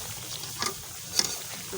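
Taro root fries and gets stirred in a pan, a soft, close sizzle broken by a couple of quick scraping strokes of the spatula.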